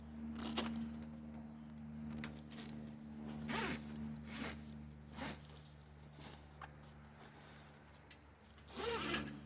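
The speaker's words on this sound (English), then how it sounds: "Zip your enclosure on, wrap the straps." Several short zipping rasps and fabric rustles close by as a fabric enclosure is zipped onto an Arctic Cat Prowler side-by-side, spaced irregularly with brief pauses, ending in a louder zip.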